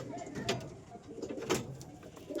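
Domestic pigeons coo softly near a rooftop loft, with a few faint, short calls spread over a quiet background.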